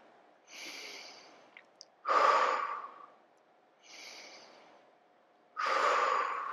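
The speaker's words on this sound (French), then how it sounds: "Et respirez là." Slow, deep breaths during a floor exercise for shoulder flexibility and strength, with four close, audible exhales and inhales alternating in an unhurried rhythm and quiet pauses between them.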